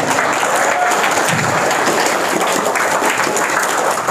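An audience at a humorous sermon by an Islamic preacher at the Izzatul Qur'an As'adiyah boarding school breaks into dense, steady clapping that fills the room at even loudness for the whole stretch, with no voice rising above it.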